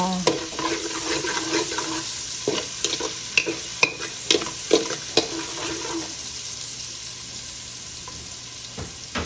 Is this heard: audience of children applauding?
no